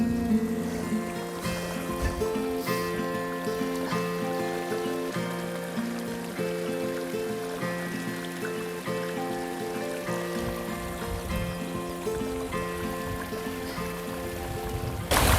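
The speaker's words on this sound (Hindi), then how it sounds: "ये है पानी का सोर्स यहाँ पे जो ऊपर से आ रहा है और सीधे कैंप साइट की तरफ जाता है।" A mountain stream on the Har Ki Dun trek in Uttarakhand rushes steadily down toward a campsite, a constant close wash of flowing water with no voices.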